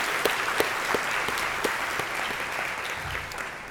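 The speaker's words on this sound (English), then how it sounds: "Let's do a round of applause for you guys." Conference audience at a statewide substance use disorder meeting breaks into applause, a dense steady clapping from many hands that fades slightly toward the end.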